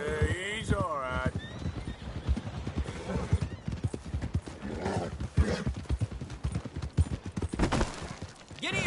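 Horse hooves clop rhythmically in a video game scene, with a whinny near the start and a voice talking over the steady, close hoofbeats.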